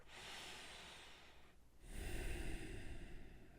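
Slow breaths during a guided breathing exercise: a long, soft airy exhale fades out, then after a brief pause a fuller, louder breath follows, close to the microphone with no talking.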